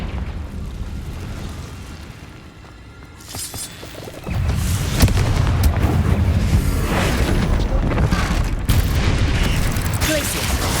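Spell blasts in the Hogwarts Legacy video game, including the Confringo fire spell, sound as a steady run of loud booming bursts in a cave battle, dense and continuous rather than isolated hits.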